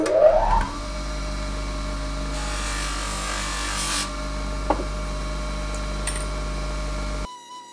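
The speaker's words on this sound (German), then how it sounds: "ich werde die Dinger jetzt noch am Schleifbock polieren." Aluminium finds cleaned in oxalic acid are polished on a bench grinder: a steady motor hum and whir with the workpiece rubbing and scraping against the wheel, a brief sharp contact midway, then the machine cuts off.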